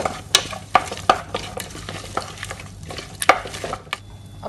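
Butter chicken mixture being stirred inside a pressure cooker, a spoon scraping and clacking against the metal pot in several sharp, uneven strokes over a soft sizzle, close and fairly loud with no talking.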